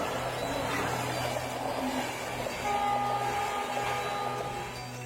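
A train runs on the railway track through a national park, giving a steady rumble and rolling rattle with a tonal hum or whine rising partway through, fairly loud and continuous with no talk.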